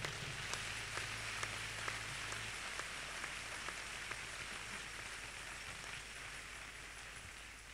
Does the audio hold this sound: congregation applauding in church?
yes